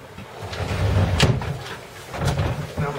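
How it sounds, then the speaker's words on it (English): A cabin door on a 2007 Monterey 270 Sport Cruiser boat slides and bumps shut, with a sharp knock near the middle and a softer thud toward the end. "I'm going to close this door real quick."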